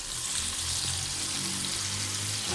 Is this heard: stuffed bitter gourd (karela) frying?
yes